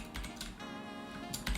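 Quick typing on a computer keyboard, a short run of close, light key clicks in a quiet room with no talking.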